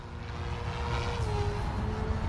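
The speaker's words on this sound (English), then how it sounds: "Let's try to do a full throttle punch out." An OMP Hobby M4 or Goosky RS4 RC helicopter motor at full throttle punch-out, a steady continuous whine with rising tones over strong low rotor rumble, fairly close and sustained throughout.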